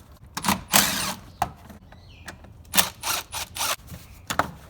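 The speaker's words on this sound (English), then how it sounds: "Pull up and out, and then separate the intake from the intake box" Factory plastic intake tube being pulled up and off the intake box of a 2014-2018 Chevrolet Silverado, giving close, sharp rubbery pops, scrapes and rattling knocks in several short bursts.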